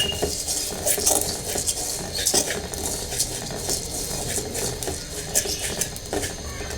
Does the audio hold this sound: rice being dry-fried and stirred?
yes